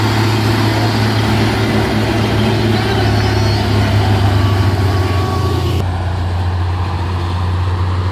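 A Hino GT truck travelling on a road, giving a loud steady low engine drone with a constant hum, and the upper noise drops away abruptly near the end.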